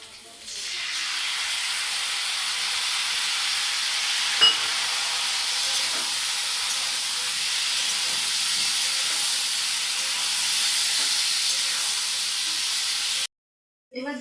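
A paste of ginger, cumin, coriander and chili hits potatoes frying for aloo dum, setting off a loud, steady hissing sizzle that holds for many seconds, with one sharp pop.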